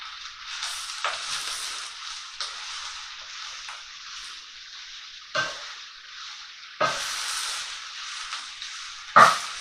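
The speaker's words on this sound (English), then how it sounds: "give that a good stir" Beef ragu sizzles in a pan while a spoon stirs it, a steady close hiss with sharper scraping swishes every couple of seconds, and no talk.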